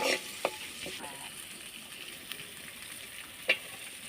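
Tomatoes and curry leaves fry in a hot pan, giving a faint, steady sizzle with a few soft stirring knocks and clinks, close and alone without talk.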